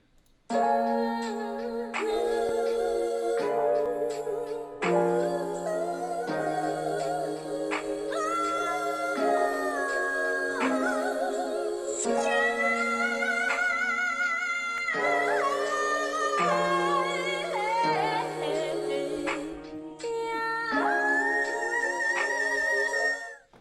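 Layered gospel choir chords in a sample loop shift through a looping progression, with crisp percussive hits punctuating the steady, full sound.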